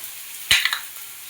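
Onion and tomato with turmeric, red chili and salt are stirred in a hot pan: one short scrape-and-sizzle burst with a second softer stir just after, fairly close and alone, then quiet.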